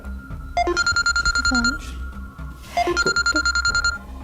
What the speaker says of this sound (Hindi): बेल हो रही।